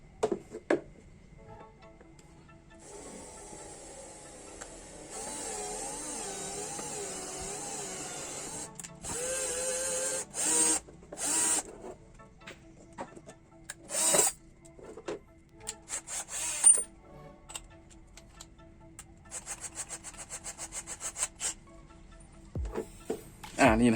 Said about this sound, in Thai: ทีนี้เจาะไปเลยนะครับ